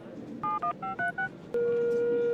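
A telephone being dialed: a quick run of five short touch-tone beeps, then a steady ringing tone that holds on alone.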